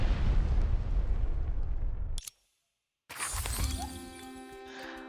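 Window glass shattering in the action game Honkai Impact 3rd: a loud crash of breaking glass dominates and decays, cuts to brief silence, then a sharp burst leads into tonal game effects and music.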